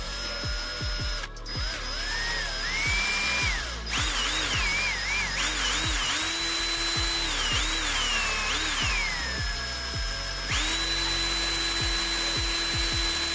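Screws being removed from the casing of a JVC HX-Z1/Z3 stereo CD player with a power screwdriver: repeated short whirring bursts that rise and fall, ratcheting clicks between them, close and fairly loud, no talking.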